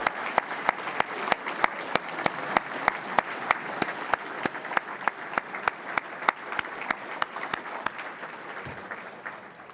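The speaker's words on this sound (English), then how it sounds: "give them a big round of applause" Sustained applause from a standing banquet crowd at an awards event, dense clapping with regular sharp accents continuing steadily for several seconds, no voices.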